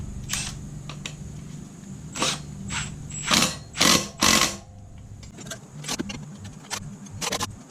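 A long 12 mm wrench snugs down swingarm bolts on a 2001 Kawasaki KDX200 with close metallic ratcheting clicks and clinks, arriving in short bursts and separate taps.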